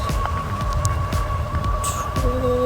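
Electric bike motor running on throttle alone while cruising, a steady close whine and hum with faint throbbing, no speech.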